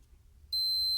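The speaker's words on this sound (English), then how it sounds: "it's going to beep when it has continuity" A steady high-pitched electronic beep from a continuity tester starts halfway through and holds continuously to the end, loud and close, after a moment of quiet.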